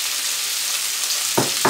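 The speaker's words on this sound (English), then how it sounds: "So as I can hear that frying up the veg." Vegetables frying in olive oil in a pot, a steady close sizzle throughout with two brief louder bursts near the end as the food is stirred.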